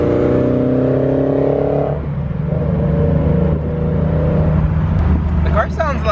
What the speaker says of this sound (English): the car sounds super clean with more resonators